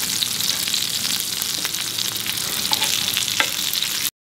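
Mackerel fish pieces frying in hot oil, a loud, dense and continuous sizzle up close, with scattered crackles and pops and occasional stirring, no voices, cutting off abruptly at the end.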